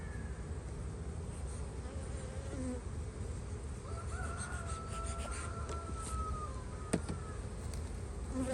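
Bees hum and buzz steadily over an opened hive during a spring inspection, a dense close drone with a few louder passes near the microphone and a brief knock partway through.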